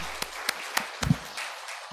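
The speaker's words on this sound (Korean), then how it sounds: "우리 하나님께 감사의 박수를 올려드리겠습니다" A church congregation gives thanks with a few sharp claps in a loose, steady rhythm, fairly close, against a quiet room.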